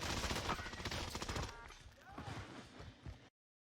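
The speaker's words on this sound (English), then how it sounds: "Then an enemy starts shooting towards him." Enemy gunfire in the Warzone video game, a dense burst of rapid shots loud at first, then thinner scattered shots further off with some low game noise underneath.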